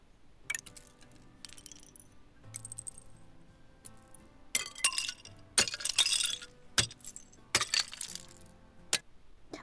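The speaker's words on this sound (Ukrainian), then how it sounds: "А це звуки, коли падають бурульки, вони ламаються" Falling icicles strike and break with sharp glassy cracks and tinkling shards, several separate crashes spaced irregularly and growing louder toward the middle, with quiet gaps between and no talking.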